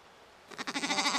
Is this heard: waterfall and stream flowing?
no